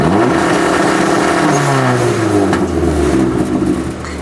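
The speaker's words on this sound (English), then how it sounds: "a cool new feature we just added to the car, and it's called launch control" A 2006 NC Mazda MX-5 Miata engine held on launch control, revving loudly near by with a steady held drone and pitch wavering and sliding as the limiter holds the revs.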